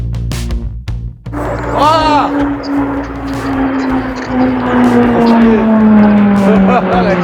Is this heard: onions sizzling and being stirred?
no